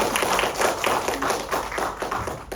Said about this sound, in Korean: 네, 박수 치주셔야 돼요